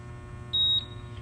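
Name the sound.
hand-spin tire balancer beeping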